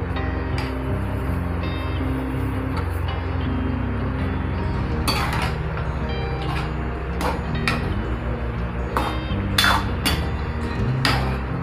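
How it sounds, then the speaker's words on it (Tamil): Spoon clinking and scraping against a pan while roasted rava is stirred for upma, with intermittent metallic taps and clatter over a steady background hum, close by. "கிளறி விட்டுட்டே இருக்கணும்."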